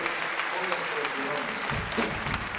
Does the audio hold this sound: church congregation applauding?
yes